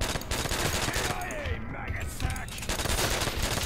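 Dense, continuous rapid gunfire fills Call of Duty: World at War custom zombies, loud and close, with brief quieter gaps and voices talking underneath.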